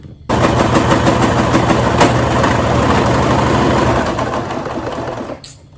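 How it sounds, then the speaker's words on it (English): A sewing machine more than 13 years old starts up and runs at a fast, steady rattle for several seconds, close and loud, then winds down and stops. "This sewing machine is more than 13 years old."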